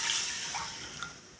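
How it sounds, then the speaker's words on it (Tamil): Water from a cup poured into a dish of red flattened rice (aval) and jaggery for laddoos, a steady close splashing stream lasting the whole moment with a couple of small drips at the end. "1 கப்பு போல் தண்ணி ஊற்றுறேன்."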